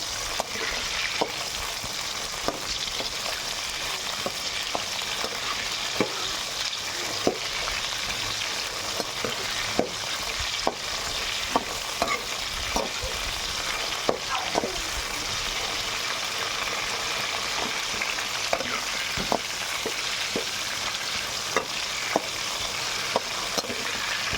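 Eggplant for a stuffed brinjal curry frying in oil, a continuous close sizzle with frequent light clicks of a spoon stirring in the pan, steady throughout with no talk.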